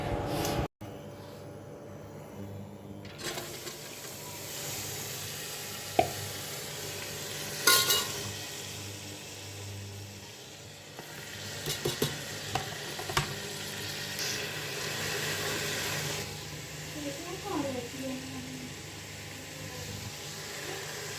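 Garlic, onion, salt, chili and garam masala frying in hot oil, a soft ongoing sizzle broken by a sharp knock at the start and intermittent stirring clinks, fairly quiet throughout.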